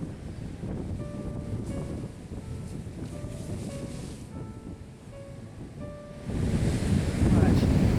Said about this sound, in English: We soon found out that we weren't the only ones enjoying the wave action.